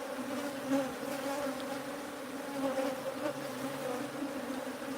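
Honeybees, drones among them, buzz steadily and densely around a bee sanctuary, a continuous close drone with a few individual bees passing nearer.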